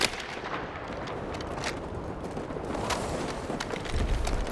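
Machine-gun and artillery fire in a Warzone match rattle on without a break, dense and loud, with sharp distant shots popping through the steady barrage.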